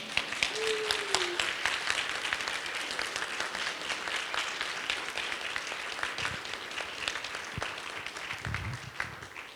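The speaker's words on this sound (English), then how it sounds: "I think this is a good time for applause." A church congregation applauds during a worship service, with steady, even clapping that fills the room for nearly ten seconds at a moderate distance and never swells or breaks off.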